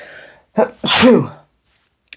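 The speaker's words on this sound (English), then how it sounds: "I'm going to sneeze probably." One sharp, close sneeze bursts out after a quick gasping intake of breath, followed by silence and a faint click.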